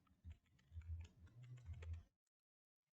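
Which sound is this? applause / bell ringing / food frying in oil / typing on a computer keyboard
typing on a computer keyboard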